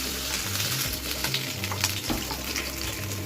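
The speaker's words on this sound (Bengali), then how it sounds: "এদিকে মাছগুলো ভাজা হচ্ছে, হতে থাকুক।" Tangra fish frying in hot oil give a steady, dense sizzle with soft crackling spread across the whole stretch, close and continuous with no talk.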